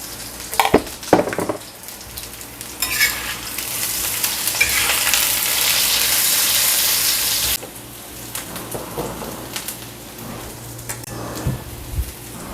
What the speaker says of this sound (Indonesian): Nah, kita goreng dulu.